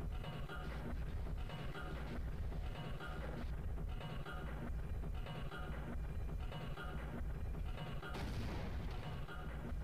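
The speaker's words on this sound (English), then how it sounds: "what if I just throw a grenade right over there" Grenade explosions and heavy gunfire in the first-person shooter Half-Life, a continuous dense battle with repeated booming blasts and rumbling low end through the whole stretch, fairly loud and with no talk.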